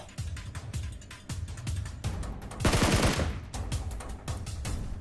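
Rapid gunfire in PUBG Mobile, with dense, continuous bursts of shots and a heavier barrage in the middle, loud and close throughout.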